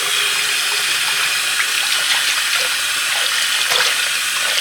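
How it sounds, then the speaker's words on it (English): Hot water running from a tap into a stoppered bathroom sink, a loud, steady rushing splash that fills the whole stretch without letup and with no talking. "We are gonna fill up the sink, obviously put the stopper on, and put hot water in here and add shampoo."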